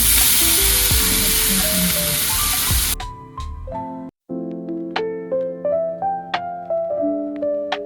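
Turmeric, garlic and potatoes fry in a pan with a dense, loud sizzling hiss for about three seconds, then it cuts off and a run of sharp clinks and taps follows.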